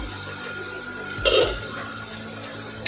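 Browned onions for suji upma are stirred once in a pan, a short close scrape and rustle over a soft background sizzle.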